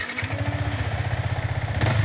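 A Yamaha XSR 155 motorcycle engine runs steadily close by, its even low throb pulsing evenly before a brief rev swell near the end, with no voices over it.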